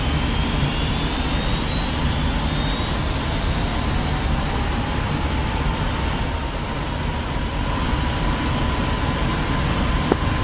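A jet aircraft engine roars steadily with afterburner on in a flight simulator, a loud, constant rushing drone with rising whine tones throughout.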